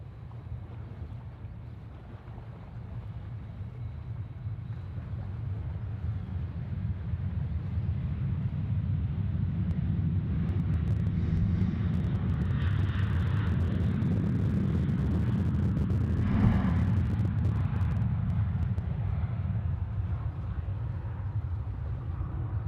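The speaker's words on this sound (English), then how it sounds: "It's the SydSquad private jet, the BBJ." A Boeing Business Jet private jet begins to roll at Sydney Airport, a low engine rumble swelling steadily and holding, heard from a distance with wind buffeting the microphone.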